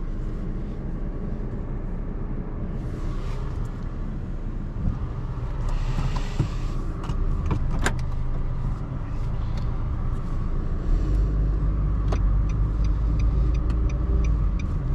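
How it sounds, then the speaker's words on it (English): A silver 2022 Nissan Sunny car on a morning test drive, with a steady engine and road rumble from inside the cabin. Broadband wind and tyre noise runs throughout, and the low-end rumble grows heavier near the end. "Today we'll make a test drive for Sunny"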